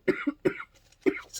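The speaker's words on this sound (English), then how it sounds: "I'm still coughing a lot" A woman coughs in a short close burst of three or four harsh coughs, followed by a breathy catch and one final cough, with no talking.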